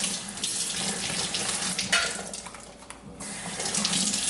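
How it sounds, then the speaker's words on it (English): A kitchen knife is rinsed under a running tap after sharpening, washing off metal shavings; a steady, close rush of water into a sink runs throughout, with small splashy changes as the blade moves through the stream. "And just give it a rinse with the metal shavings."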